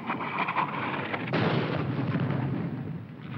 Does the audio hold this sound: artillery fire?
yes